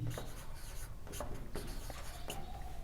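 A pen scratches steadily across paper while geometry proof lines are written out, a close, continuous rubbing scrawl with short stroke bursts and brief lifts, heard alone without talk.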